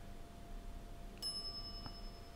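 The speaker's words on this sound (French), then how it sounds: "some idiot's already ringing that stupid bell" A single bright ding of a service bell at a shop counter in The Secret of Monkey Island adventure game, one short clear strike over quiet background hum.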